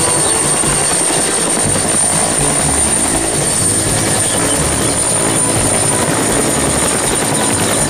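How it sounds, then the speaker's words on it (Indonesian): Loud, steady thumping roar of a helicopter's rotor and engine, constant and near throughout. "Wah, lihat teman, ada helikopter."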